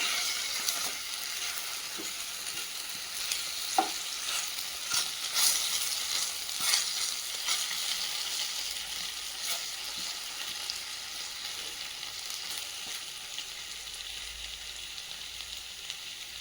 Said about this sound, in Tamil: இந்த ஒட்டிகிட்டு இருக்க உருளைக்கிழங்கெல்லாம் கூட பிரித்து விட்டு நல்லா திருப்பி விடுங்க.